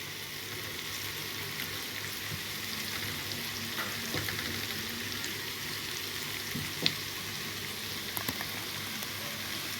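Garlic, onion and peppers fry in a pan as a soft, even sizzle with occasional faint clicks of stirring, heard close and fairly quiet, with no voices.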